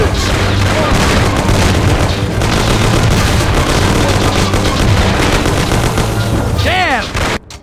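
Heavy gunfire rattles through a shootout in the video game Mafia (2002), with dense overlapping bursts and booms sustained at high volume, then cutting off abruptly near the end.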